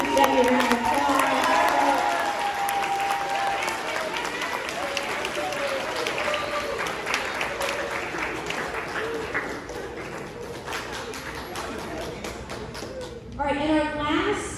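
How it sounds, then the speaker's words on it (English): Audience applause at a 2021 Grandview Honors awards program, sustained clapping and some cheering that gradually thins out, with voices mixed in near the end. "Debbie, round of applause."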